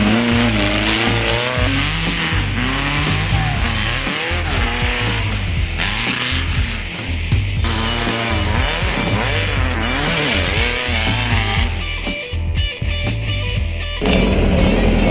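Off-road vehicle tearing through brush while cutting a new trail in the Kentucky pipelines, its engine roaring loud and steady nearby, with thrashing, scraping vegetation noise layered over the continuous drone.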